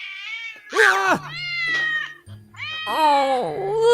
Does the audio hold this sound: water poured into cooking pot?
no